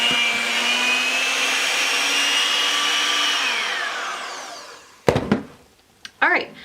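An electric hand mixer whips a blackberry whipped sugar scrub, a steady high whine that winds down after several seconds, followed by a few brief clattering handling sounds.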